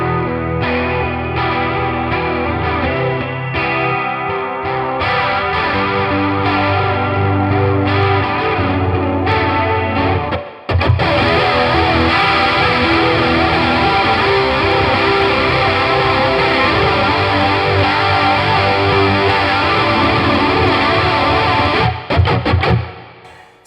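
Electric guitar played through a NUX Cerberus pedal with big reverb, chorus and drive, loud continuous shimmering chords with a brief cut near the middle before the playing resumes.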